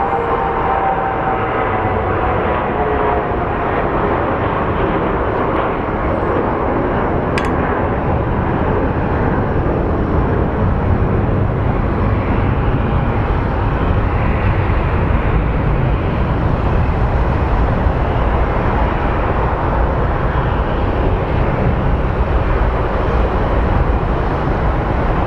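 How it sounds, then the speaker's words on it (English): Delta Airlines Airbus A321 landing at Phoenix Sky Harbor airport, a continuous broadband jet roar that holds steady and loud for the whole stretch, with no talking. "It's a Delta Airlines A321 coming from Detroit. So let's go take a look at it as it lands on the north side of the runway."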